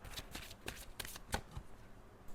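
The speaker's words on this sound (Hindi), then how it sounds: "तो hang on, let me shuffle the card" Tarot cards shuffled by hand in a quick series of crisp riffling bursts and soft flicks, close and fairly quiet, with no voices.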